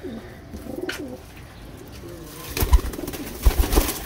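Pigeons for sale in Rawalpindi, flying-breed birds, coo softly in low repeated throaty calls, fainter early and growing louder near the end, with no one talking.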